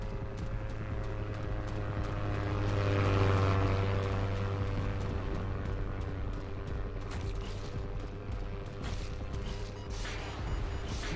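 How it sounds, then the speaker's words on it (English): Steady helicopter rotor drone with a low engine hum, continuous throughout, joined by a few sharp bursts and crackles near the end, in an apocalypse survival base-building video game. "I do like the sound and movement of the helicopter"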